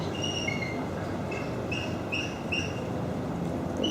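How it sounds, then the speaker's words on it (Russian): Birds sing near a misty mountain observation deck in Juneau, with short, high chirps repeating every second or so over a constant low rumble of background noise. "Это птички так поют?"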